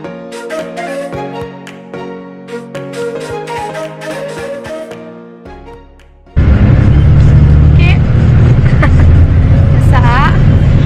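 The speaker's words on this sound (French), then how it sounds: "là on est dans le bus pour Pokhara" Bus engine and road noise inside a long-distance bus bound for Pokhara, Nepal: a loud steady low rumble that takes over abruptly partway through, after music and talk, with voices over the drone.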